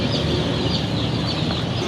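A crowd of broiler chicks chirping together, a dense, continuous high-pitched peeping that fills the space evenly and stays steady from start to end, with no talking.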